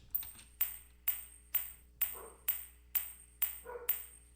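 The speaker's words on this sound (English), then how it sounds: "Right here, I've got this little coin flick." A small coin flicked repeatedly, giving sharp metallic pings about twice a second, close and fairly quiet over a faint low hum.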